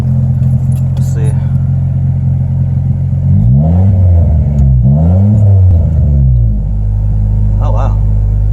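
A turbocharged Honda Civic with a D16 engine cranks over, catches and revs up and down in a few rising and falling sweeps before settling to a cold idle, with voices speaking nearby.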